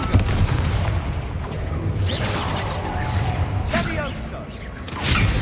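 A Confringo blasting spell in Hogwarts Legacy sets off repeated booming blasts and whooshes over dense, continuous combat noise, with a voice speaking over the action.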